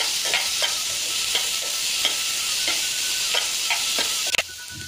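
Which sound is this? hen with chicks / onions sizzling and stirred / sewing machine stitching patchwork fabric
onions sizzling and stirred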